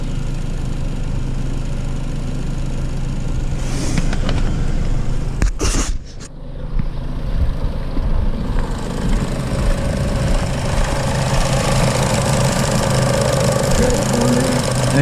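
A Chevy Cruze with a 1.4 turbo engine, showing coolant temperature and turbo underboost faults, runs steadily under the open hood as it is checked for a turbo leak, with a loud, close mechanical drone and a brief rattle midway.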